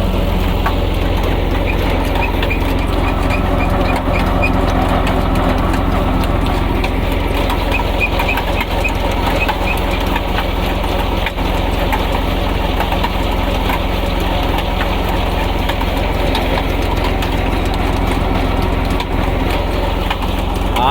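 A tractor idles in a Pakistani village, its engine a loud, continuous low rumble that stays steady for about twenty seconds, with faint bird calls in the background.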